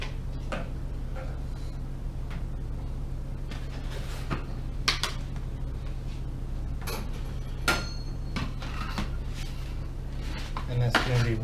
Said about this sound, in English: Trusty whisk.